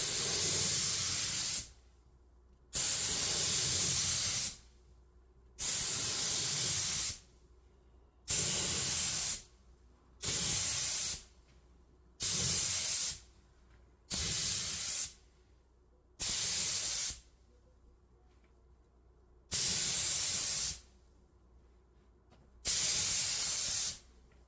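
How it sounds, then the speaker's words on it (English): Spray gun applying a third coat of car paint in a garage, a series of about a dozen loud hissing bursts, each lasting a second or two, separated by short silent pauses in a regular pass-by-pass rhythm. "for the third coat, I sprayed an even wider area, starting from the primed section and slightly lifting the gun at the end to blend the transition"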